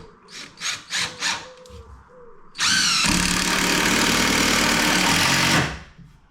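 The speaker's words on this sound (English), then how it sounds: "I don't feel I need to stick a screw in," A handheld power driver sinks a screw into a wooden bearer inside a cupboard under construction, a steady loud whir lasting about three seconds after a few softer preliminary knocks and rustles.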